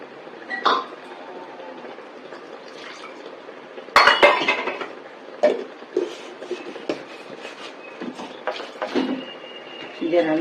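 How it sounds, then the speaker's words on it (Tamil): Water swishing around a mixer grinder jar as it is rinsed, with clinks and knocks of the jar against pots, uneven handling noises and faint talk in the background. "மிக்சி ஜாரை அலம்பி இதில் விட வேண்டியது."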